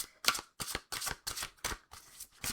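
An oracle card deck is shuffled by hand in several quick bursts, each a crisp riffling flutter, with short pauses between them and no voices.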